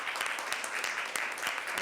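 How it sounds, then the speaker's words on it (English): A round of applause breaks out in a city council chamber, steady dense clapping from a seated crowd filling the room, with no pause in the short stretch. "I'm going to bend them right now because that deserves a round of applause."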